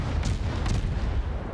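Naval gunfire from an enemy ship in the World of Warships video game produces deep, rumbling booms layered over a continuous low roar, with a couple of sharper thuds in quick succession.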